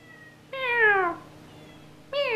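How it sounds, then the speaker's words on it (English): A small cat meows twice, close and clear: one long, drawn-out falling meow, then a second meow starting near the end, over a faint low background hum. "And the cat is meowing."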